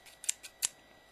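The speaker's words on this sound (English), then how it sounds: "Scissors" A pair of scissors snips sharply three times close up while opening a box holding a Bachmann model locomotive, crisp metallic cuts spaced unevenly over a second, no talk.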